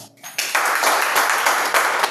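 A church congregation applauds for the Lord at a Christian club prayer meeting, a dense, steady wash of clapping that starts after a short quiet moment and holds evenly loud for about two seconds.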